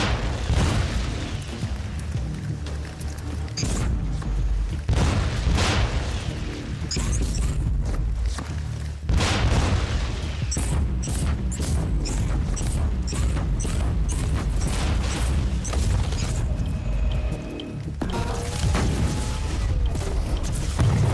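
In Warhammer 40K: Inquisitor - Martyr, a turret and other combat fire keep up heavy booming blasts and bursts, loud and near over dense game noise, with someone talking at times.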